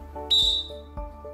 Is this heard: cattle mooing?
no